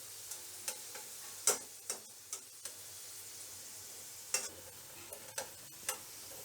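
Potato slices fry in a pan with a faint steady sizzle, broken by a scattering of soft ticks and taps from flipping and separating the pieces.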